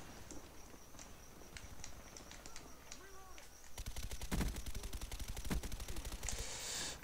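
Rapid gunfire from the video game Black Ops 1 crackles in quick bursts, growing denser and louder in the second half over quieter earlier shots and game noise.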